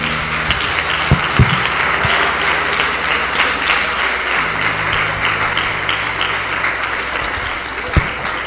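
Loud, sustained applause from a large church congregation at a worship service fills the whole stretch, with a few sharper claps and faint voices mixed in.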